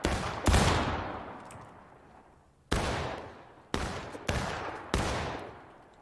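Rifle shots fired during shooting practice with muzzle-loading rifles such as the Lorenz and Enfield, five sharp loud reports, the first followed by a long rolling decay, then four more in quicker succession, each echoing away.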